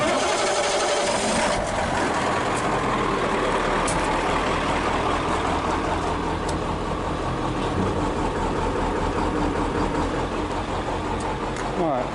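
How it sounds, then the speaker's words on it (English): The engine of a 1989 International rollback truck, just back from clutch work, starts up after a second and settles into a loud, close, steady diesel rumble that continues without pause. "Now we got to start the truck up"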